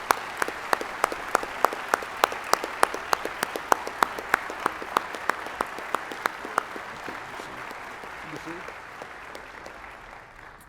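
An audience in an awards chapel during graduation week applauds graduates, with a sharp rhythmic clap up front over a broad crowd clapping that fades out toward the end, and no talk.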